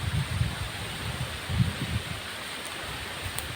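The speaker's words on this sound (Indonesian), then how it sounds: "Anginnya sangat kencang kali." Strong wind blowing across a plantation, a steady rushing roar with gusty low buffeting rumbles, as if striking a microphone outdoors.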